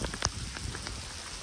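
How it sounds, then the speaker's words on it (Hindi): Heavy rain falls outdoors among trees, a dense hiss of drops striking surfaces with a few sharper, closer splats breaking through the steady downpour. "परफेक्ट बारिश"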